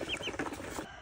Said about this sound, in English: gonna feed the little chicken